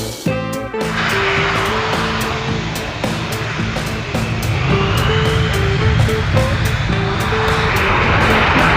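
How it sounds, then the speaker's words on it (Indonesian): A toy fighter jet gives a continuous droning engine sound with a steady whine that builds slightly louder, broken by repeated clicking ticks, with no talking. "Pesawat tempur."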